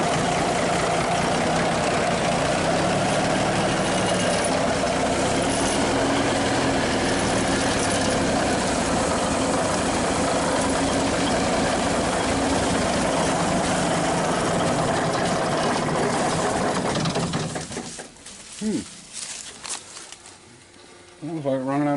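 A Cummins 350 Big Cam diesel engine idles loudly and steadily for a long stretch after its first start in years, then cuts out abruptly near the end, leaving quieter sputters and background sounds.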